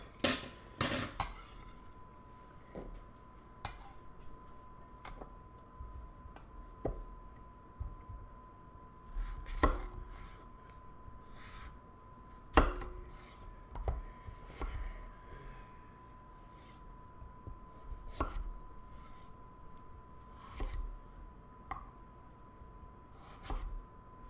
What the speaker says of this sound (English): we're going to chop it up and season it just like we did the rest